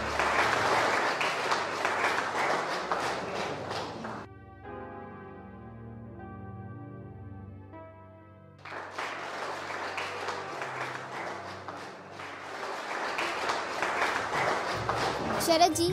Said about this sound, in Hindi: तालियों से इनका स्वागत किया जाए।